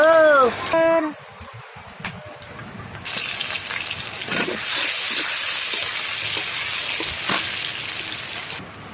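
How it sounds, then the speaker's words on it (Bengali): Pointed gourd and potatoes frying in hot oil give a steady, close sizzle that swells after a brief pause, with clinks and a voice speaking over parts of it. "এই তো পটল আর আলুগুলো দেখেন ভাজা হয়ে গেছে।"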